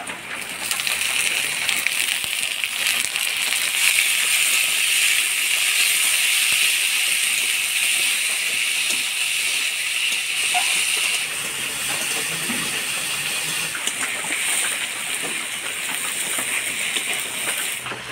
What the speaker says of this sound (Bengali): পেঁয়াজটা হালকা লাল লাল করে ভাজি নিলাম